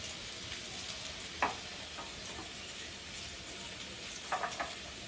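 Potatoes and vegetable stalks fry in a pan with a quiet, steady sizzle. A few brief clinks of a stirring utensil can be heard near the start and again toward the end, and no one speaks.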